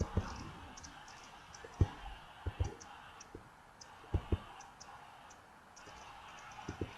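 Computer mouse clicks while navigating Google Earth, a scattering of faint, sharp single and double clicks at irregular intervals over a quiet room background.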